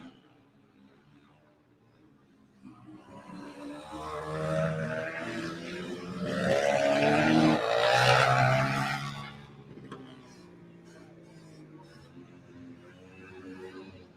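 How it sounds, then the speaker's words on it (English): KTM motorcycles race on a short flat track, their engine roar rising as they pass close by, peaking at the midpoint, then fading away, with a commentator talking over it. "Declan Bender on the KTM out front."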